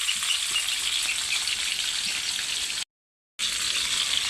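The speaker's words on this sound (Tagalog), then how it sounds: "Nara guys, nagprito mig isda." Fish sizzles and spits in a frying pan, a steady close crackle of hot oil that cuts out for a split second before carrying on.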